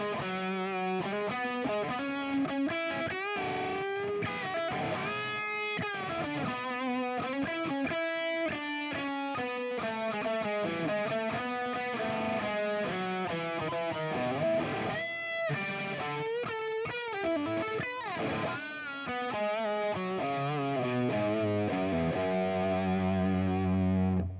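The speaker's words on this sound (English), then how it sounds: "kicks in the other head, kicks in the boost, kicks in the dynamic delay, kicks in the reverb" A sustained distorted electric guitar lead through a Fender Tone Master Pro, with boost, plays a flowing melody with thick, echoing delay and reverb tails, loud and continuous.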